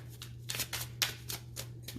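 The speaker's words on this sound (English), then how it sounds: "one last shuffle" Cards being shuffled up close, a quick series of riffling bursts in an even rhythm over a low steady hum.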